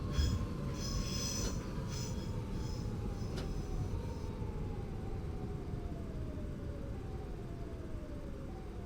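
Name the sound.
train wheel slip, Open BVE train simulator video game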